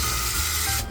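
Paper is rubbed against grouper fish to pat it dry, giving a close, steady rustling scrape that runs for about a second with no voices.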